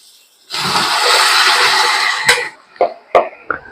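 Broccoli hits a hot pan with onion and salt, setting off a loud, bright hiss that holds for about two seconds before cutting off, followed by a few sharp utensil clacks.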